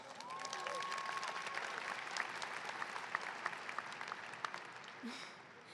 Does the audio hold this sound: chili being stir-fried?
no